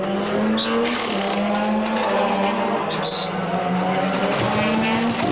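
A Suzuki Castrol endurance racing motorcycle at the Bol d'Or, its engine a loud, sustained droning whine that shifts pitch as it runs, with crowd and track ambience behind it.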